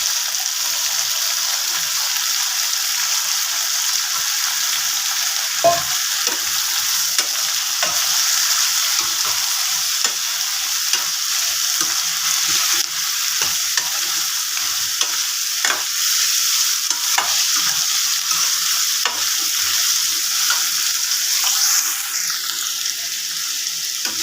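Potatoes fry and sizzle in a pan with already-fried onions, a steady hiss with frequent scraping stirs of the spoon, close and alone with no talk.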